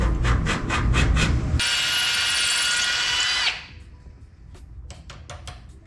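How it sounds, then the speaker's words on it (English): A hammer drill bores into the brick masonry of a fireplace with a loud, steady, high-pitched grinding whir lasting about two seconds, framed by short rhythmic tapping before and after. "It was not powerful enough to drill these out in the masonry, so we went and got a hammer drill"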